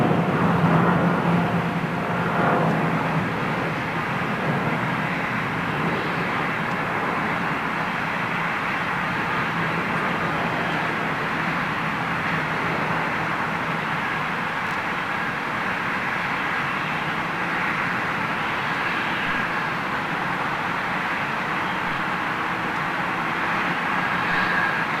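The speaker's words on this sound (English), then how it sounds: "British Airways 747 heading out to" British Airways Boeing 747 with Rolls-Royce RB engines taking off on a wet runway at Heathrow bound for Nairobi, a steady, loud broadband jet roar with spray hiss that holds throughout without talk.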